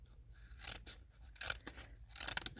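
Scissors snipping through printed inkjet sticker sheet, a smaller stand-in pair, in several crisp close cuts with short pauses between them, alone without talk.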